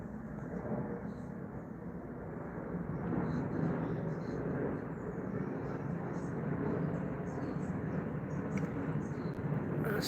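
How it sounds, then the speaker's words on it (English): British Airways Boeing 787 Dreamliner passing overhead near London, a steady broadband jet roar that swells gently and holds, moderately distant, with faint talk underneath. "the British Airways Dreamliner 787."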